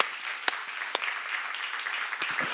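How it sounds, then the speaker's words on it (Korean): A church congregation applauds during a sermon on the Book of Revelation. A steady, moderately loud wash of many hands clapping continues throughout, with a few sharper individual claps standing out. "박수야"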